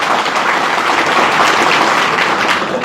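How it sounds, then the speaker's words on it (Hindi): Sustained, dense audience applause at a coaching centre gathering fills the whole stretch at steady loudness, with no voices breaking through. "तालियां बजाइए मरगूब सर के लिए"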